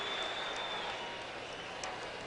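Faint crowd applause in a Dallas arena after a slam dunk at the 1986 NBA Slam Dunk Contest, a steady wash of clapping heard from a distance, brief and even.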